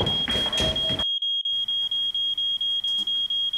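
A fire alarm beeps rapidly and repeatedly, a sharp high-pitched chirp pulsing steadily, with a brief burst of muffled noise at the start.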